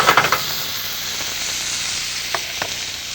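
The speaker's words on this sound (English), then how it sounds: "And as this meat sears, it's almost finished." Meat sears in a hot pan with pine nuts, cheese and parsley nearby, a steady bright sizzle and hiss with a few crackling pops and stir sounds, no talk.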